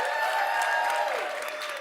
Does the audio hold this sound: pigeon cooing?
no